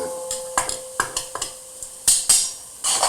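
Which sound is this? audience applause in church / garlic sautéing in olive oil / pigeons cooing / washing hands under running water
garlic sautéing in olive oil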